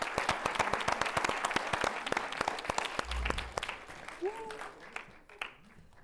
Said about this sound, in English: Please, everyone give Asa a huge round of applause.